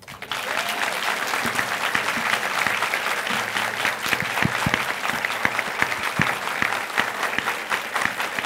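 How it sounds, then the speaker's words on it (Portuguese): An audience at a lecture event claps in sustained, dense applause for a federal police official, loud and steady for several seconds with some voices mixed in. "Então, eu queria uma salva de palmas para o delegado de Polícia Federal, Rony José Silva."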